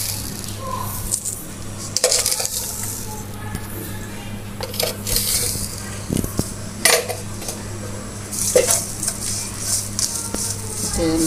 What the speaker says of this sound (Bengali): এখানে আমি বড় চামচ দিয়ে 2-3 চামচ চিনি দিয়ে দেবো।